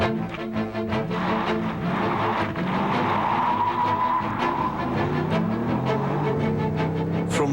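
A Mercedes SL73 AMG R129 with 525 horsepower drives hard, its engine roaring and rising through the revs with gear changes and sharp ticking transients, loud and continuous with no voices.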